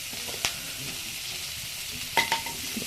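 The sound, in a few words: frying and stirring food on a wood-fired stove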